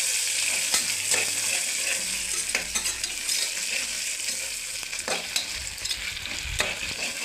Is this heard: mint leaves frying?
yes